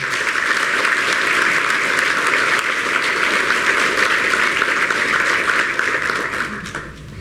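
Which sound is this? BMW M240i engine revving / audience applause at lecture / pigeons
audience applause at lecture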